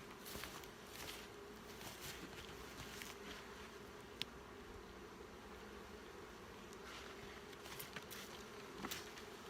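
Honeybees buzz steadily in a hive as brood frames are handled, a soft continuous droning hum with faint scattered knocks and clicks from the frames, quiet and close.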